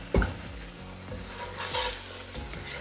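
Mutton for curry sizzles while roasting in a hot pan under intermittent scraping and stirring thuds, close by and moderately quiet.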